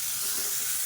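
Chopped onions sautéing in a pan for a Tamil-style rice flakes puttu, giving a short, steady, close hiss of sizzling with no talking.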